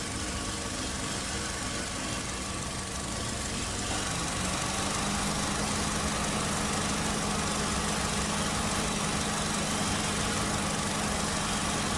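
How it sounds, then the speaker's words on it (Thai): A 2003 Honda Civic 1.7 EXi engine idles steadily up close, a smooth continuous low hum and rumble with a slight shift in tone partway through, no voices. "เสียงเครื่องยนต์เดินเบาเดินพรสนอหูมากนะครับ"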